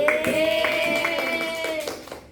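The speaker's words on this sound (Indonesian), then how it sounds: "Tepuk tangan untuk diri sendiri" Students in a classroom lesson clap for themselves. A short burst of scattered hand claps plays over a steady tone and fades within a couple of seconds.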